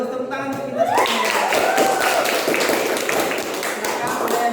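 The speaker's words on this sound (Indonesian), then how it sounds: "bagus, tepuk tangan untuk kita semua" Students in a classroom clap together: brisk, rhythmic handclaps close by that hold steady for several seconds, with voices calling out over them.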